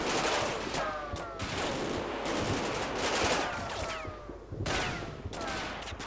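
Heavy rattling gunfire from the WWII wargame Combat Mission: Battle For Normandy, with continuous overlapping volleys and bursts, fairly distant and muffled, and a voice faintly beneath it.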